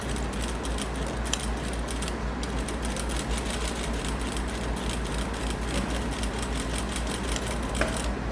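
A sewing machine stitches over fabric bias binding, a steady fast mechanical whir and clatter running continuously, close and even throughout, with no voices.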